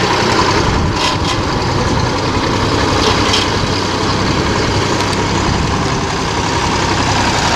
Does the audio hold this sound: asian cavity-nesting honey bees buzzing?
no